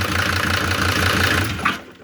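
A Mercedes OM602 2.9-litre diesel idles with a close, steady clatter, then is shut off, the running sound dropping away into quiet near the end.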